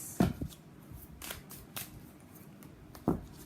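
Tarot cards shuffled and drawn, a few soft riffling slaps and papery flicks spread across a quiet room, with a sharper card snap near the end.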